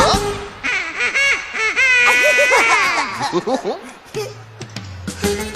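Children's stage show singers imitate a duck's quacking in a sung line, a run of rhythmic vocal quacks over music and other voices, loud and close.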